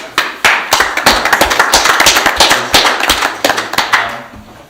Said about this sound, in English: And I'm going to give you claps.